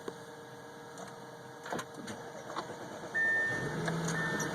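A 2012 Audi A6 cold start, with faint cabin clicks and rustling followed by a quick crank and the engine catching into a steady idle close by.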